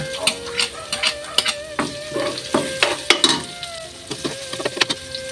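Ginger stirred and frying in an oily pan while cooking mung bean stew, with a steady close sizzle broken by repeated scraping stir strokes and light utensil clinks; no talking.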